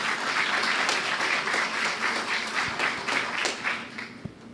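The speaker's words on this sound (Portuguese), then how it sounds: "Salve de palmas, doutor Vicente." Sustained audience applause after a speaker's introduction at a congress lecture, dense steady clapping from a crowd that holds strong, then thins and fades with a few last claps near the end.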